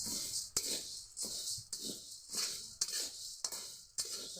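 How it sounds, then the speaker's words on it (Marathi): A utensil stirs peanuts roasting in a pan at home, each stroke a dry scrape and rattle, repeating in a steady rhythm about twice a second, close and fairly quiet. "हलवत राहायचं लय जाळायचं नाही"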